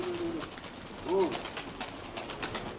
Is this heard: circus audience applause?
no